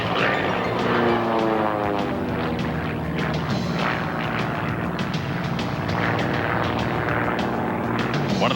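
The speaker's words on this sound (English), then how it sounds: "One of the more difficult things in flying formation aerobatics is getting these aircraft back into formation." Several propeller aerobatic aircraft flying close formation at the 1992 Rose Festival airshow, a loud sustained engine drone with shifting pitch as they pass overhead, heard alone.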